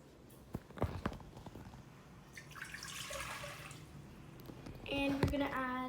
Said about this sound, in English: You want to add your water.